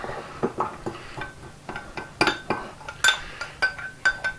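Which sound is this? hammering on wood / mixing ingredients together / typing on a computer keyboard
mixing ingredients together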